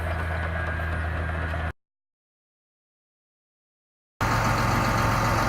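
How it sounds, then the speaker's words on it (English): A John Deere 8530 tractor with ILS suspension, pulling a ripper rig for forming ridges and beds, runs with a steady close engine drone and rumble, cut by a stretch of complete silence before resuming. "Got the power unit is an 8530 John Deere with the ILS suspension."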